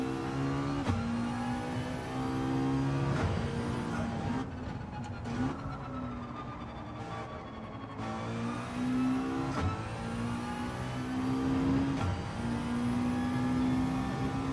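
A McLaren race car in Gran Turismo 7 revving hard through repeated gear changes, the engine note climbing and dropping in steady cycles with brief shift gaps, loud and close.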